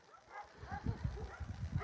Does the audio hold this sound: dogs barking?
yes